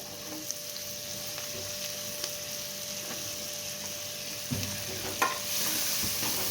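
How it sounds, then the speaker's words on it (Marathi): Finely chopped onion sautéing with cumin in a pan, a moderate steady sizzle broken by occasional spatula scrapes and knocks, with a louder burst of frying near the end, nearby and free of talk. "कांदा परतायला घ्यायचा आहे"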